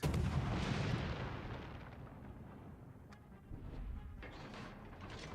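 Heavy naval gunfire from a warship in World of Warships, a dense rumbling barrage at the start that eases into a lower roar, with further booms swelling near the end and no talk over it.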